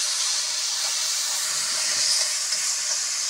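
Spice paste frying in a pan over a wood-fired stove, a steady loud hiss and sizzle that runs unbroken throughout with no talking.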